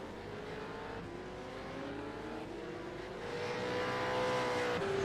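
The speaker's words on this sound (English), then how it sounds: "we got about 6 cars out on the track." Several race cars circle Fuji International Speedway in an iRacing simulation, a steady layered engine drone with rising and falling pitch lines as cars pass, growing slightly louder toward the end, with no talk.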